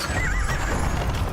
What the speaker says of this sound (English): We've got a horse dude just hanging out down here.